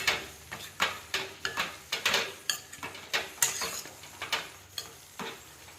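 Repeated scraping and clinking of a spatula stirring cabbage in a frying pan, in an uneven rhythm with a light sizzle underneath, close and fairly clear.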